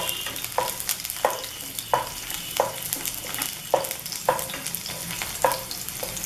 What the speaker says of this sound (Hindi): अब हम इसमें जो लहसुन हमने चॉप किए थे वो लहसुन और हरी मिर्ची डालेंगे